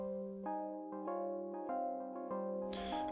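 Moog Subharmonicon synthesizer running two sequences at the same speed, with reverb and delay: a steady pattern of sustained, harmonically rich tones stepping between pitches, ending in a short burst of noise, with no talking.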